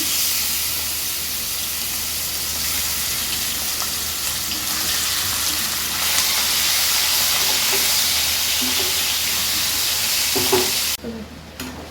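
Prawns fry in oil in a pan, a steady loud sizzle and hiss throughout with occasional stirring clinks, cutting off abruptly near the end.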